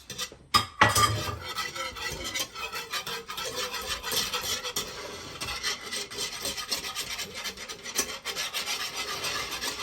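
A spoon scraping and rasping steadily through thick pineapple chicken sauce in a pan, a continuous close, gritty stirring with small clinks, no talking.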